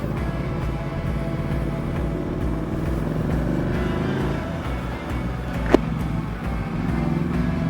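A Ducati Panigale V2 sports motorcycle ridden on small roads early in the morning, its engine droning steadily and loud throughout with a brief sharp click near the end, no voices.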